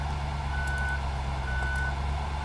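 Steady electronic reversing beeps sound at a regular pace over the low idle rumble of a large Mercedes Axor truck being manoeuvred into a tight spot nearby, with no talk.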